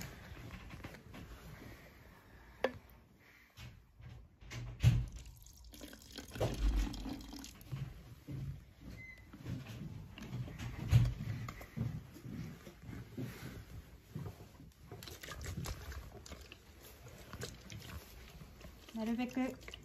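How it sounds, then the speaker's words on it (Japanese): Sodium hydroxide solution is poured slowly into a chilled plastic PET bottle for a gold-plating experiment, giving a continuous low liquid pouring and splashing sound under a person talking throughout. "水酸化ナトリウムを加えていきます。"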